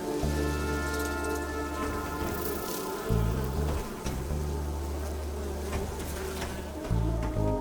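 Insects buzzing in the video game The Berlin Apartment: a loud, close, continuous drone with wavering pitch that swells and dips over a soft background hiss.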